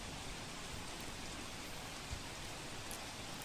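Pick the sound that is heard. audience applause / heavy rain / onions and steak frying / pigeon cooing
heavy rain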